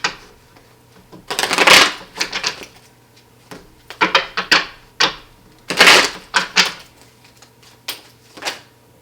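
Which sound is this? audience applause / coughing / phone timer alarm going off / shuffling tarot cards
shuffling tarot cards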